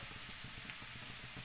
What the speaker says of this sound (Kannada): ಹಾಗೆಯೇ ಇದು ಆನಿಯನ್, ಇದನ್ನು ನಾವು ಚಂದ ಮಾಡಿ ಫ್ರೈ ಮಾಡ್ಕೊಳ್ಬೇಕು